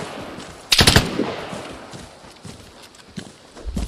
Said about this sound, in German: Schießt noch einer auf mich?